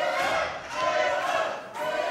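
Crowd at a women's wrestling cage match cheering and chanting for Willow, a steady loud roar of many voices that swells, dips briefly and rises again.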